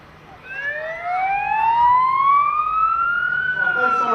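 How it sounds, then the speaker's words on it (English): Wailing emergency sirens of a bomb disposal team rise in pitch and grow louder, sweeping steadily as they approach over a low background rumble. "those sirens you can now hear is the bomb disposal team"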